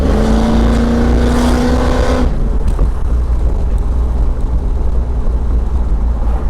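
A car fitted with a Boss Hog 10-inch 2200-stall torque converter, its engine droning loud and close under acceleration, the revving tone climbing before settling into a steady, rumbling cruise.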